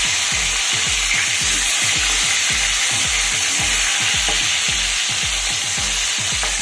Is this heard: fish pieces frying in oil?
yes